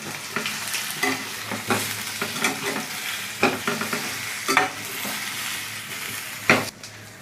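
Corn chaat being mixed in a hot pan, with loud, repeated spoon scrapes and clinks over a continuous frying sizzle, close-up and without talk.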